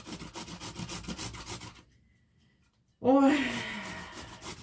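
Pumpkin grated by hand on a medium grater, a steady rhythmic rasping for about two seconds, then a pause, and a woman exclaims briefly and begins talking.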